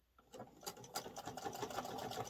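A sewing machine back stitches the top and bottom of a fabric pouch, its needle running in a steady, fairly loud mechanical patter that carries through alone with no talk.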